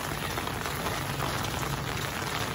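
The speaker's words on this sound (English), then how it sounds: "It's raining outside." Steady rain falls outside, a dense even hiss of drops on surfaces that continues unbroken and fairly close, with no talking.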